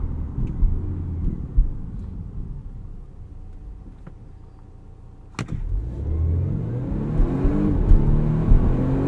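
A 2020 Volvo V60 T8 E-AWD Polestar engine hums and builds as it accelerates from 0 to 60, a sharp click midway, then a louder rising roar with shifting engine tones.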